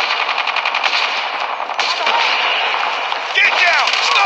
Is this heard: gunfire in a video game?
yes